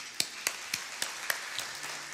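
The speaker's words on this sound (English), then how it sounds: "Give them a round of applause, please." A few scattered hand claps from a small concert audience at a soca jazz show, about six separate sharp claps spaced evenly and fairly faint, fading toward the end with no talk.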